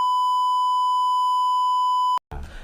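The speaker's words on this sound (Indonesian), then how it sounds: "nanti di bip saja" A steady, piercing censor bleep of about two seconds covers a spoken name in an Indonesian podcast, then cuts off abruptly before talk resumes.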